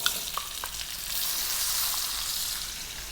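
A cup of onions frying in a pot on medium heat for lamb stew, a close, bright, continuous sizzle with a few soft stirring knocks early on.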